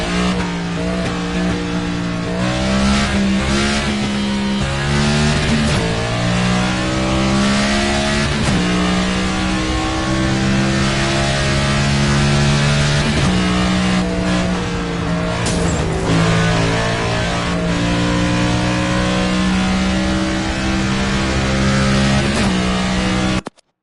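A NASCAR race car engine in NASCAR 25 roars loud and close, revving up through the gears with repeated rising pitch sweeps and sharp drops at each shift, with no talking.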